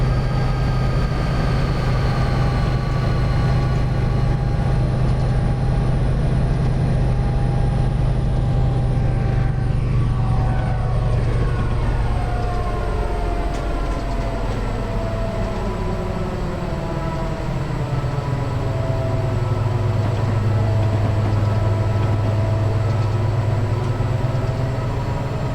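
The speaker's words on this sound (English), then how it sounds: "Passing another cargo train here in a second." A cargo freight train rolls past in Train Simulator 2015 on Cajon Pass, a loud continuous rumble with shifting horn-like tones and a pitch that bends downward as it passes, with no talk.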